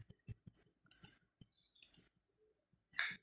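Computer mouse buttons click several times in a quiet room while adjusting gradient fill colors in Microsoft Publisher, sharp close taps spaced irregularly with brief pauses between.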